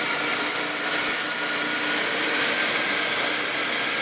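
A combined chaff cutter for cutting straw and grass runs on an electric motor. It makes a steady, loud, continuous mechanical whir with a high whine that does not change, and no one speaks.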